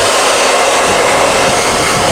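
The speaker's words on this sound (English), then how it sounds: "You can still hear me talk over the blow dryer" A Dyson hair dryer blows on its high setting, a loud, steady, broadband rush of air that holds constant with no pauses and no talking.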